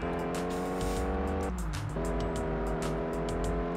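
Tires squeal loudly and continuously from a car fishtailing in Test Drive Unlimited on PS2, the engine droning steadily underneath and a brief dip in the squeal midway.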